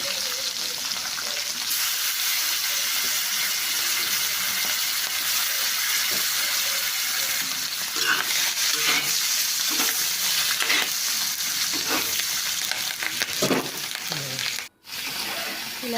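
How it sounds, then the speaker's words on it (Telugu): Ingredients for gongura curry fry in oil in a pan, a steady close sizzle with stirring scrapes and clinks, then a brief drop to silence near the end. "దాని తర్వాత ఒకటి వేసేసుకొని ఫ్రై చేసుకోండి"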